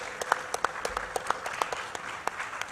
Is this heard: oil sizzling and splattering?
no